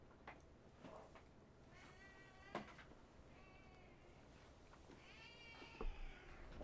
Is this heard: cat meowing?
yes